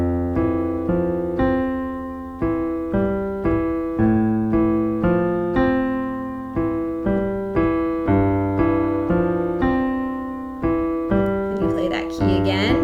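Piano plays both hands of a song together, slow repeated chords and melody notes struck one after another, each decaying before the next, clear and close.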